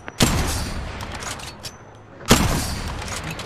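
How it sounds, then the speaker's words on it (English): Two sharp bursts of gunfire in the Apex Legends video game, each a loud crack followed by a decaying rattle, spaced about two seconds apart with quieter game ambience between them. "Taking fire!"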